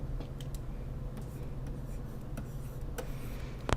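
Pen or pencil scratches numbers onto paper in short, soft strokes and taps, close by and quiet, with no talking.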